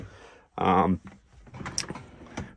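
A drawer slides open or shut in a 2023 AVan Cruiseliner caravan with a short, loud rolling rush, followed by softer knocks and clicks of a cupboard nearby.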